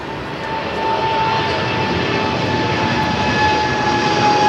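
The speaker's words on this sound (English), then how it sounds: "So we do have this 777 freighter now rolling down to 25 left." A DHL Boeing 777 freighter rolls down runway 25 left at Los Angeles LAX, its jet engines a loud, continuous roar with steady whining tones that swells slightly after the first second.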